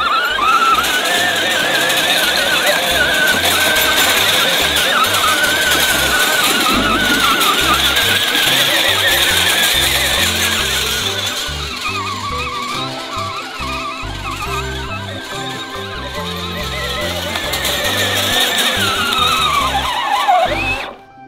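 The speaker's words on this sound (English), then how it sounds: "Your tractor's doing awesome, tearing up the ground so we can plant sunflowers." A small tractor tears up farm dirt to prepare ground for planting sunflowers, its engine droning loud and close with a steady mechanical whine that dips midway and rises again.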